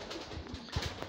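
King pigeons cooing at a pigeon farm, a few low soft coos near the microphone over a murmur of other birds, with no talking.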